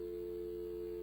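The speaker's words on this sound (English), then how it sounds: "It's not breaking the dial tone." A steady telephone dial tone hums on an open line, a continuous pure drone holding at even loudness with no breaks and no other sounds.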